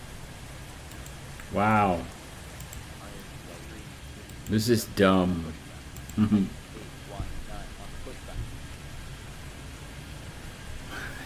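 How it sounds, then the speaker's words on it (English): Steady rain hisses loudly throughout the Airport Madness 3D video game at Hong Kong airport, a continuous broadband wash, while someone briefly speaks over it. "That rain sound is really loud."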